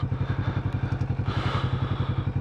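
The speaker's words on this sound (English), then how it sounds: "I'm going to leave the bike running as much as possible." A Kawasaki Vulcan S motorcycle engine runs at idle with an even, rapid low thumping pulse, close by, with some faint background rustle and no speech.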